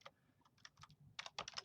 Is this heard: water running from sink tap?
no